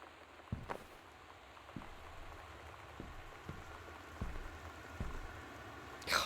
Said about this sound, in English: I love that sound of rain.